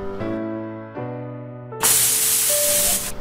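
Steady low tones give way to a loud, rushing hiss with a whistling tone riding on top, a pressure cooker whistle releasing steam while cooking rice and peas.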